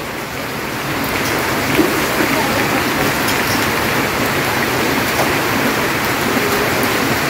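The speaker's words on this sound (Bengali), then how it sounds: "এই যে বৃষ্টির অবস্থা, বৃষ্টি হইতেই আছে, একটু পর পরে বৃষ্টি নামে।" Rain falls in a Bangladeshi village during the rainy season, a loud, dense, continuous downpour drumming on surfaces close by, building slightly in the first second and then holding steady throughout with no talking.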